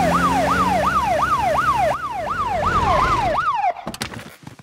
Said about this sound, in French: Est-ce qu'on peut remettre la sirène, s'il vous plaît?